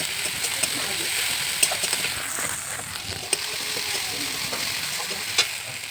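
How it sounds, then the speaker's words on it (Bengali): Cumin, garlic and chopped onion fry in a pan while being stirred, a steady close hiss of sizzling with occasional light clicks and scrapes of the spoon. "এবার তরকারিটার জন্য আমি জিরে, রসুন, পেঁয়াজ কুচি সামান্য দিয়ে ভালো করে নাড়াচাড়া করে নিলাম"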